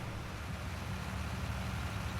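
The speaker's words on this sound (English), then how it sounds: "the engine note on this sounds deeper." A low, steady tractor engine rumble in Farming Simulator 19, droning on without change, a deep continuous motor hum.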